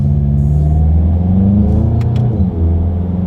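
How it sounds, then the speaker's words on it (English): A Volkswagen Golf GTI Mk7 with a dual-clutch gearbox runs at low speed, its engine a loud, close, steady rumbling drone with a slight pitch shift as the paddle shifters change gear. "let's just do a quick little paddle shifter test here"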